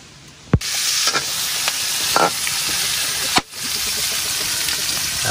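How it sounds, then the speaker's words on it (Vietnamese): Meat dry-fries in a pan over a fire, giving a steady loud sizzling hiss with a few sharp knocks and scraping stirs. "Rồi bây giờ thì thịt cũng được lên chảo để rang rồi các bác ạ."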